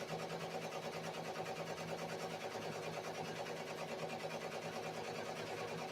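Ricoma MT 1501 embroidery machine running, a faint steady mechanical whir with a rapid stitching rhythm and low hum, continuous throughout with no talk.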